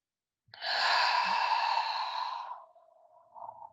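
A single long, deep yoga breath, drawn and released smoothly for about two seconds, alone in quiet surroundings.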